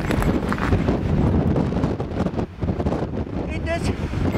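Strong wind buffets the microphone in a steady, loud roar at a high point in Norvin Green State Forest, New Jersey, with gusts rising and falling throughout.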